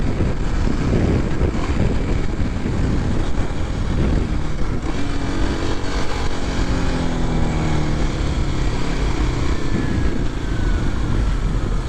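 A 2023 Kawasaki KLX 300SM is ridden with its engine droning steadily under loud, constant wind rush, pitch rising and falling smoothly through gear changes and cornering, with no talk.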